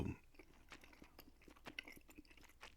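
Close-up gum chewing with soft, wet clicks and smacks repeating in an uneven rhythm, quiet and intimate, with no talking.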